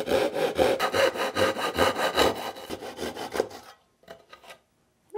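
A hand saw cuts through a short scrap of wood while building a 48V LiFePO4 battery box, rapid steady rasping strokes for over three seconds, then a few lighter strokes and silence, close up with no talking.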